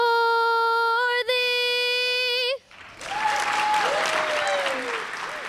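Audience applause in an Ottawa City Council chamber follows a sung Canadian national anthem, a steady broadband clapping wash that swells and sustains for several seconds after the final held note fades.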